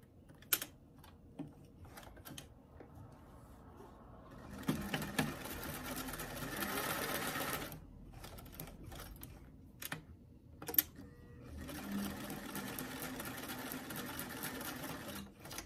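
A sewing machine stitches a doll dress center back seam in two bursts of rapid, close mechanical whirring, separated by quiet pauses with small clicks and handling noises.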